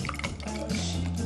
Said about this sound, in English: So we're going to give it a nice pour.